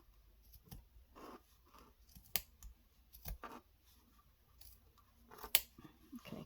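Scissors trimming a craft feather: a few sharp, quiet snips and clicks scattered across a mostly hushed tabletop, close by and without talk.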